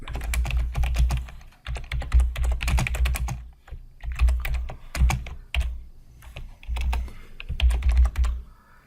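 Quick, steady clatter of code being typed on a computer keyboard in bursts separated by brief pauses, close and clear with no voices over it.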